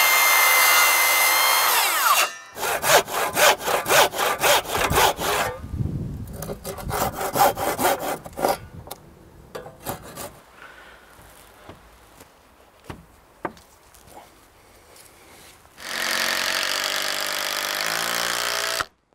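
A timber roof rafter for a hipped roof is cut with a saw: loud continuous bursts of sawing at the start and end, with a run of rhythmic close strokes, scrapes and knocks in between, and no talk.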